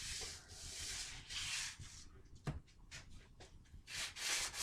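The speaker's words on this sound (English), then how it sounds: "the best thing to do here is probably going to be to use some cloth back sandpaper" Cloth-backed sandpaper rubs across gun metal in repeated rhythmic strokes, close and quiet, with short scraping bursts separated by brief pauses and a sharp tap partway through.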